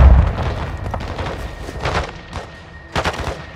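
Heavy booms from an airstrike gun run in Call of Duty Modern Warfare II, a series of thudding impacts and bursts arriving in uneven pulses, the last few sharp and loud.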